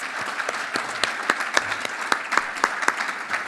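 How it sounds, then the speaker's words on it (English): Applause at an environment awards ceremony honoring Lifetime Achievers, a crowd clapping with sharp individual claps standing out, steady and fairly close, with no talk over it. "I would just like to offer one last round of applause to those three beautiful Lifetime Achievers"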